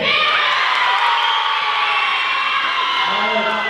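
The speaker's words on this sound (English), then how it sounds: "Give me some cheering" A loud, sustained roar of children cheering, whooping and yelling together at a school anti-bullying assembly. The shouting stays close and continuous throughout.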